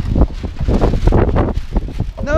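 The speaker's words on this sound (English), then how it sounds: "It's pretty windy today." Strong wind buffets the microphone outdoors, a loud, close, rumbling roar with choppy gusts throughout, while a person talks underneath it.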